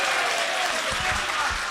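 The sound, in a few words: audience applause at ghazal concert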